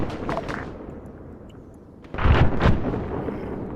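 Mortar shells exploding in a military video game, two deep booming blasts with rumbling tails, the second burst heavier and nearer, with no voices.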